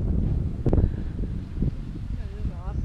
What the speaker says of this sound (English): that's the wind catching me